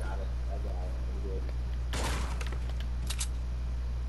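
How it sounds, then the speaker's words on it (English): Stormtroopers fire laser blasters in the video game Fortnite: one sharp burst of shots, then a couple of quicker zaps, over a low steady background hum. "Why do I hear a laser? It's a stormtrooper, probably."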